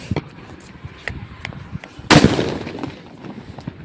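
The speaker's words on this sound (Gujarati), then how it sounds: "મહેશભાઈ એકલા ફટાકડા ફોડે છે." Firecrackers burst in a string of sharp cracks and pops, with one loud close blast in the middle and fainter bangs scattered around it.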